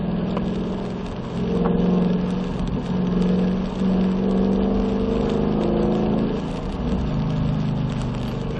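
A car engine on a race track holds a steady mid-pitched drone that swells slightly as the throttle is squeezed, loud and continuous with no talk.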